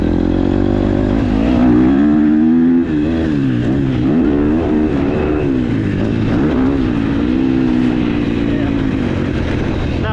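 A KTM 250SXF or Yamaha YZ250F dirt bike engine drones loud and close for ten seconds, its pitch repeatedly climbing and dropping as the revs rise and fall without a break.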